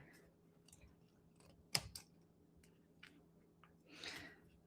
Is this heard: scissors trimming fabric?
yes